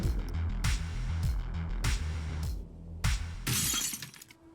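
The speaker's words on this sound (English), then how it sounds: "The sound of shattering glass tears through the static of the rain is sharp-bodied and close." Glass shatters close and sharp in an audio-drama scene, bursts of breaking glass crashing repeatedly over a hiss of rain and a low pulsing music bed, the last burst brightest before fading out.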